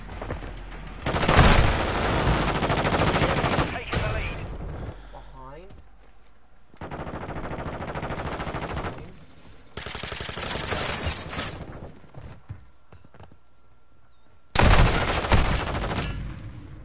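Video game team deathmatch firefight on PS4: heavy bursts of automatic gunfire and blasts come in several loud blocks separated by quieter gaps, with a voice talking in between.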